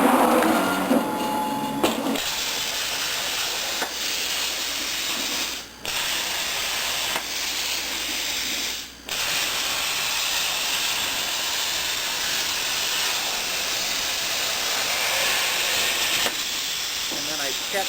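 A PlasmaCAM CNC plasma cutter cuts a part with a loud, continuous hiss, joined by short mechanical clicks and brief dropouts as the torch moves along its path; no one talks.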